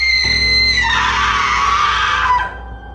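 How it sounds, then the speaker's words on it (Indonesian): Long, shrill scream sound effect, loud and sustained for over two seconds at a piercing pitch before cutting off abruptly, leaving a faint low hum. "sebuah suara jeritan panjang dan melengking terdengar"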